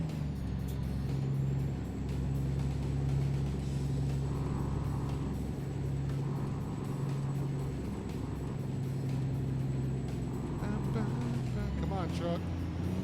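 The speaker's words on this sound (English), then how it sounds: "I think the noise of this noisy ass truck is" A loud truck engine drones steadily with a low hum, road noise underneath, and a few faint clatters near the end.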